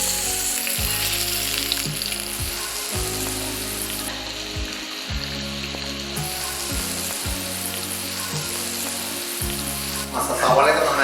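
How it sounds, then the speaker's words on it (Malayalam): Onions sauté in oil in a pan for prawn biryani, giving a loud continuous sizzle under repeated low, steady mechanical tones, with a burst of brighter crackle near the end. "സവാളയൊക്കെ നന്നായിട്ട് വഴറ്റിയിട്ടുണ്ട്."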